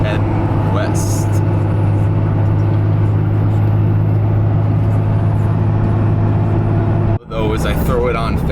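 A 1978 Dodge Macho Power Wagon cruising down a road, its steady engine drone and road rumble heard from inside the cab, someone talking over it, with a brief dropout near the end.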